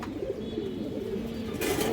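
Indian Kaldum pigeons coo close by in low, rolling murmurs that carry on steadily, with a brief burst of brighter noise near the end.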